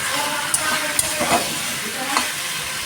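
Meat frying in a pan with steady sizzle while a utensil stirs and scrapes, giving a few sharp clinks and scraping bursts over continuous crackling at close range.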